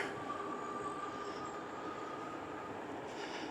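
A thin, steady motor whine from a Himiway A7 full-suspension eBike rides above a constant rolling rush, holding one pitch throughout at moderate level.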